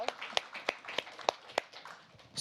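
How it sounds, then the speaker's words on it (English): Scattered hand claps from a small audience at an inspirational speaking event, a thin irregular patter of separate claps rather than full applause, with faint voices mixed in. "Everyone give her a round of applause."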